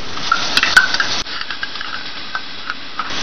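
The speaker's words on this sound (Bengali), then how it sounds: "এক মিনিট মতো একটু নাড়াচাড়া করে নিচ্ছি পেঁয়াজ রসুনের সঙ্গে" Whisked sour yogurt stirred into onion and garlic in a pot for mutton yakhni pulao, with loud close metallic spoon scrapes and clinks over a soft sizzle.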